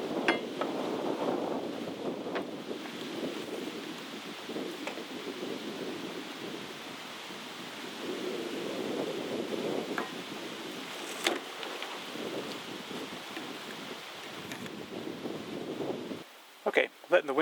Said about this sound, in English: letting the wind die down some